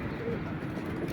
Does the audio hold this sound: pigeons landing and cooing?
yes